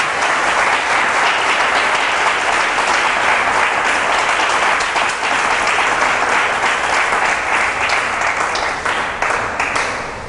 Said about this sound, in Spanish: Vamos a darle un aplauso a nuestro Señor